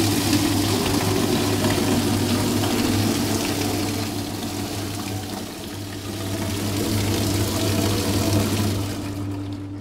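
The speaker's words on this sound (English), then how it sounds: "open the line valve, flow control valve, and switch on the pump of the system." A pump drives water steadily through the pipe system of a friction-loss laboratory rig, giving a continuous rushing flow over a low motor hum that stays fairly constant for about ten seconds, with no talk.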